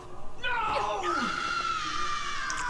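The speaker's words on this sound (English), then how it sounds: "Screams." A loud, drawn-out scream from a cutscene in the video game Dragon's Dogma Dark Arisen, rising sharply, then sliding down and trailing off over dark, rumbling game ambience.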